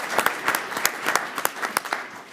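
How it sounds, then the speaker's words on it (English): Scattered, uneven clapping from a modest audience at a school board of trustees meeting, honoring an undefeated student team; individual sharp claps stand out in a brief, close burst that fades out. "let's give them a round of applause if we could"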